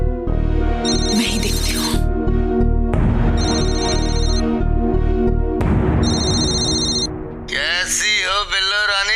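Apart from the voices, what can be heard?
phone ringing continuously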